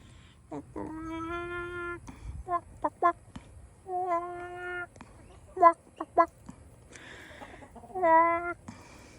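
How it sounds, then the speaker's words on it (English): Loud rooster clucks and squawks from a running rooster on a farm come in bursts of short harmonic calls, some stretched longer, separated by quiet gaps with faint shuffling. "Run, rooster."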